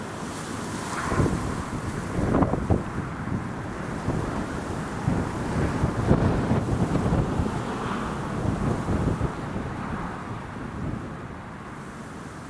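Strong storm wind blows across Newcastle Airport in January, rising and falling in loud gusts that buffet the microphone throughout.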